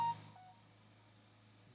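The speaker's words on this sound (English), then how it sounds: "my phone." A mobile phone gives a brief notification beep: one short tone followed by a fainter second tone, quiet and over almost at once, with only a low hum afterward.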